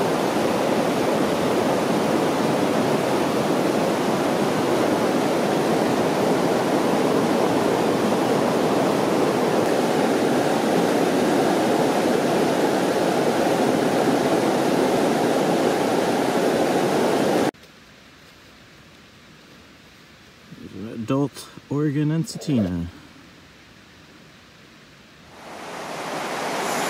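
Flowing river water at Rock Creek rushes steadily and loudly as a broadband wash for most of the stretch, then cuts off abruptly, leaving a quiet spell with a brief voice before the water noise rises again.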